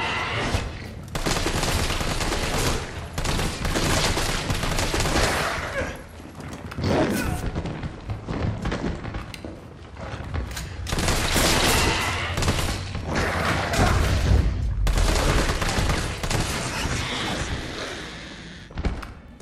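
Resident Evil 3 gunfire in a hospital area: repeated loud shots and rapid bursts crowd together across the stretch, with brief pauses between volleys and a voice talking now and then.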